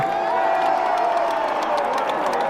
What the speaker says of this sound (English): the crowd is getting loud here as things come to an end